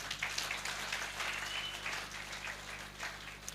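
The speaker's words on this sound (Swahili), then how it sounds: "Situpigie wageni wetu makofi." A church congregation at a live Sunday service claps for visiting guests, a soft, steady patter of many hands heard at a distance.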